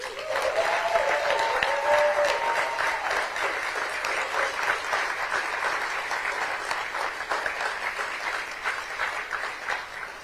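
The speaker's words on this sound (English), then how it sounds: "Please join me in a round of applause for former President Mary Robinson." Sustained audience applause for former Irish President Mary Robinson at a St. Patrick's Day diaspora event, steady and full throughout the room, with a few faint voices underneath.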